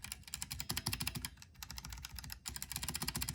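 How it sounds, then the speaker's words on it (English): Gateron switches clattering under fast typing on a Kemove SnowFox 61 keyboard, a dense run of close, crisp keystrokes with two brief pauses, no talking. "The Gateron Green is a lot clickier than the red switches."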